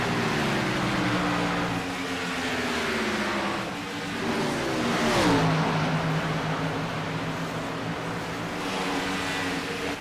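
Race car engines drone and rev in an oval racing game at Old Atlanta, with Chevrolets and Fords running steadily and pitch sweeping as cars pass close by.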